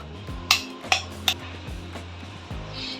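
Two eggs are cracked against a mixer jar that holds banana and sugar for a wheat banana pancake, heard as three close, sharp taps followed by softer knocks, with no talk.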